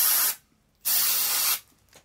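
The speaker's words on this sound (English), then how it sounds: "probably the only Nutrol product that I actually use is the silicone spray" Silicone aerosol spray blasted into the gaps of a Tokyo Marui MWS airsoft rifle, two short close hissing bursts separated by a brief silence.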